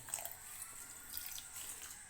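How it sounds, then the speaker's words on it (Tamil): Water is poured into a vessel of sugar while making a sweet sev, a steady trickling splash that runs without a break at moderate closeness. "கொஞ்சமாக தண்ணி ஊற்றிக்கிறேன் முழுகிற அளவு தண்ணி ஊற்றிக்கிறேன்"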